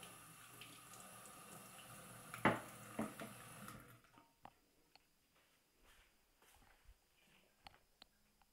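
Water from a kitchen tap runs steadily for a few seconds while something is rinsed under it, followed by quieter clinks and handling sounds. Close and soft, with no talking.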